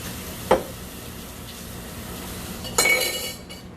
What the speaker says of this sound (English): I'm gonna wash this here.